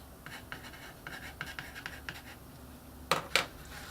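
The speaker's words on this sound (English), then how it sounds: "I'll just make a mark on it to match that tick mark we made on the base" A pencil marks a tick on a wooden piece cut for the front wall of a castle build, with light scratchy strokes in a short sequence ending in two firmer marks, quiet and close, with faint room noise.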